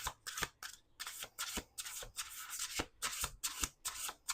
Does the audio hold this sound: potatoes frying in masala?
no